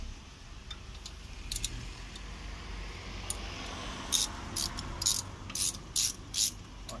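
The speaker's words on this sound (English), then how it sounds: "You get your spanner or your socket." A brake nut on a 2014 MG3's front brake is tightened with a spanner or socket, producing a series of short, crisp ratcheting clicks that grow more frequent toward the end, close and fairly quiet over a low background hum.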